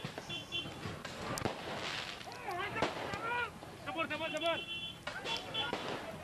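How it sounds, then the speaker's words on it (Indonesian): Firecrackers thrown at police during a student protest in front of a university campus in Serang, Banten, crack in sharp bursts amid a loud, dense crowd of shouting voices and commotion. "Mahasiswa yang menolak dibubarkan menyerang polisi menggunakan petasan."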